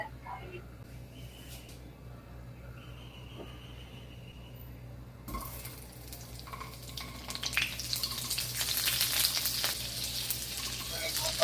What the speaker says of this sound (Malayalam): ഇനി ഒരു പാൻ അടുപ്പത്ത് വെച്ച് പാൻ ചൂടാകുമ്പോൾ 1 ടീസ്പൂൺ ഓയിലും 1 ടേബിൾ സ്പൂൺ ബട്ടറും ഇട്ടു.